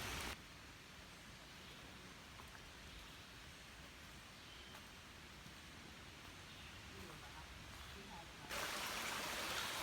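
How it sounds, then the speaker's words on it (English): A creek at a triple trail crossing on the Appalachian Trail rushes steadily, a faint, even wash of flowing water throughout that swells slightly louder at the very end. "Just getting started and hit this triple creek crossing."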